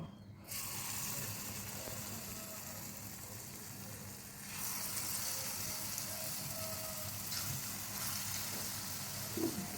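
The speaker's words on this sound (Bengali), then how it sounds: "এবার দেখো, বড়াগুলো একটা একটা করে" Palm fritters (taler bora) fry in hot oil in a wok with a faint, continuous hissing sizzle that swells slightly as more batter goes in.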